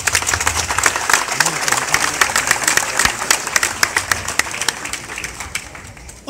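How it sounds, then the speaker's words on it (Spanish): Crowd applause at a public works launch ceremony in Huaral, Peru: dense clapping from many hands, loud and sustained for several seconds, with an announcer's voice over it. "Pueblo, un fuerte aplauso."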